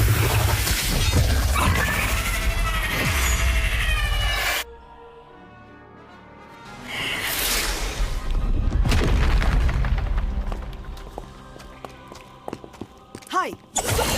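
Statues being smashed in the video game Harry Potter: Magic Awakened, with heavy booming crashes and shattering debris in the first seconds, a quieter lull, then further crashes and scattered impacts, with spoken dialogue throughout.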